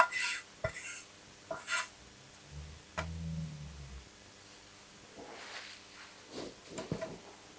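A spatula scrapes thick brigadeiro chocolate mixture out of a pan in short, soft rasping strokes with scattered light taps of utensil on metal, quiet and close.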